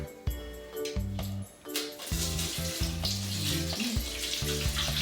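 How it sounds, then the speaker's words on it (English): Jamaican sorrel drink poured through a strainer, a close splashing liquid stream with dripping and clinks of the strainer against a container, with a brief pause partway through. "Okay, so I'm gonna strain it right now. So I'm using this strainer."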